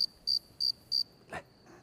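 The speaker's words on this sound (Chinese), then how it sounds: "是蛐蛐儿" Pet cricket shown to a child indoors, chirping in short bright bursts: four evenly spaced pulses close by, followed by a brief softer rustle, with no talking.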